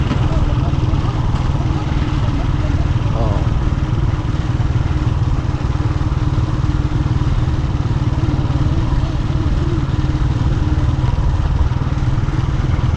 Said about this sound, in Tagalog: Nagtingog-tingog yung ating motor